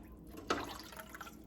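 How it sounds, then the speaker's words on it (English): Water being scooped out of a home canner during pressure canning of oxtail stew, giving one near splashing slosh followed by softer drips and trickles, with no talking. "You're just gonna scoop this water"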